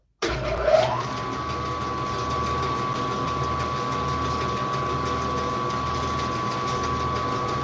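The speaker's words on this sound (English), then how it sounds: "Loud noises? Well, not that loud. It's bandsaw." Bandsaw in a small workshop, starting with a brief louder rise and then settling into a steady, moderate motor whine and hum that runs alone and unbroken throughout.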